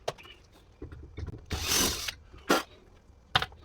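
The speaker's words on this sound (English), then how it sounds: "Now I just have to screw these in" Screws being driven in while fitting switches for an off-grid solar system, a few short close ratcheting and scraping bursts separated by brief pauses.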